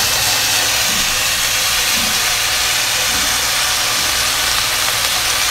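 Soy sauce poured into a hot pan of fried potatoes for restaurant-style crispy chilli potato, raising a loud, steady hissing sizzle that fills the whole clip without pause.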